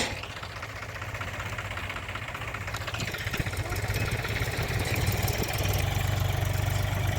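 Tractors run in fields during groundnut sowing, a steady chugging diesel engine drone with a low knocking pulse that grows slightly louder toward the end, with no talk over it.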